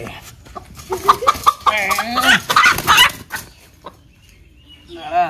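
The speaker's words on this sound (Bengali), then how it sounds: "বাবা মোরগটা বের করো, দিয়ে কেটে দাও।" A desi rooster clucks loudly and agitatedly in bursts as it is pulled out of its cage at home, close by, with people talking between the calls.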